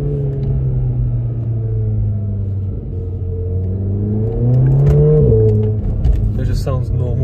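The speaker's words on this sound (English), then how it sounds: "all you hear is like engine noises and stuff like that" A stock VW Golf R MK7 with the EA888 turbo engine and factory air filter revs in manual mode, a loud, close, low drone rising in pitch through the pull, with someone speaking over it.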